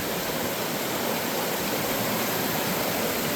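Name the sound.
small waterfall and cascades on a trail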